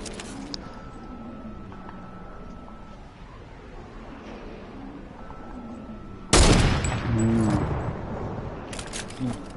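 Bursts of video game gunfire crackle through a steady background bed, with a loud burst of rapid shots near the end and a few scattered reports earlier, under occasional talk.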